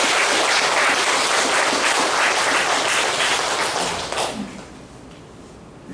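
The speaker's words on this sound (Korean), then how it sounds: "큰 박수를 부탁드리겠습니다" A congregation applauds together during a Korean church worship service, a dense, steady wash of clapping that holds for about four seconds before thinning out and fading away.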